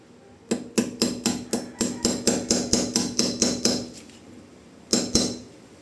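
Metal hammer strikes driving a bolt and washer into place during a four-stage water filter installation, about fourteen sharp, evenly paced blows close by, then a pause and two final strikes, with no talk.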